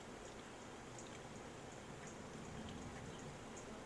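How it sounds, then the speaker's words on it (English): Rain beginning to fall during a late-summer thunderstorm, a steady, even hiss of drops that fills the whole clip at a constant moderate level, with no voices. "Here comes the rain."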